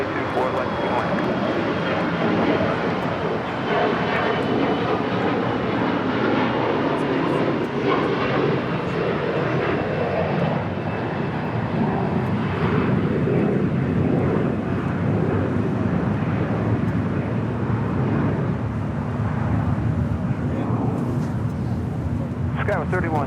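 A Boeing 747-8 Intercontinental airliner arriving from Seoul and landing at LAX gives a long, steady jet roar at moderate distance, broad and continuous throughout with no voices over it.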